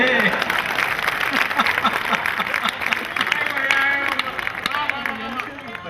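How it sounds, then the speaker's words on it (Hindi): A large audience at a kavi sammelan poetry recital claps steadily and loudly throughout, with crowd murmur and faint voices mixed into the applause. "ओम की उस लाइन पर भरपूर दाद दीजिए"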